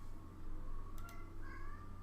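A cat meows twice in quick succession, faint and somewhat distant, over a low steady indoor hum.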